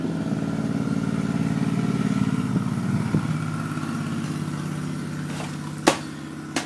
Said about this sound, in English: Is that a fucking bike?